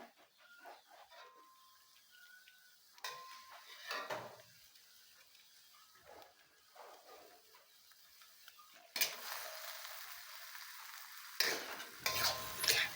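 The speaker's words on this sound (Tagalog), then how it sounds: "At haluin lang natin yan." Squid and string beans stirred in a hot frying pan, with a utensil scraping and clinking against the pan over a soft sizzle, growing louder and busier toward the end.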